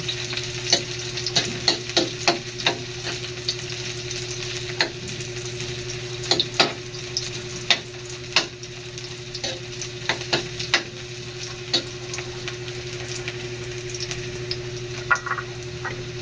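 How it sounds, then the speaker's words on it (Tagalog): Onions sautéing in a pan with a soft continuous sizzle, punctuated by frequent sharp clicks and scrapes of a spatula stirring, close by and without voices. "Sunod ang sibuyas. Ayan, isa-gisahin."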